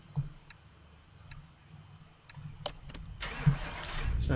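A Nissan Skyline 2000 GTR C110 in Car Mechanic Simulator 2018 clicks a few times before its engine starts on a dyno and settles into a steady, rising hum.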